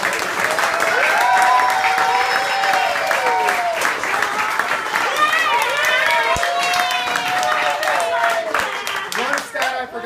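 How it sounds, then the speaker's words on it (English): An audience applauds two kids at a youth football banquet for the Mighty Mites, with sustained clapping and some cheering throughout, fairly loud and close, with a few voices mixed in. "I just want to give both of these kids a big round of applause."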